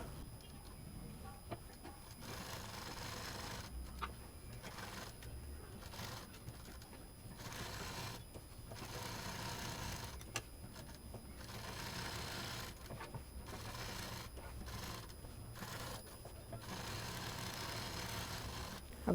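A sewing machine stitches fabric for a toy cat in short, repeated runs of whirring broken by brief pauses, fairly quiet and close, with light handling sounds in between.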